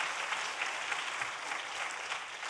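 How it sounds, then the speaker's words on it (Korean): Church congregation applauding its youth worship team, a soft, steady wash of many hands clapping heard from a distance at low level, without any voices over it. "우리 박수 한번 주도록 하겠습니다."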